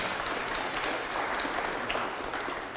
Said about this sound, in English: He's got people cheering for him.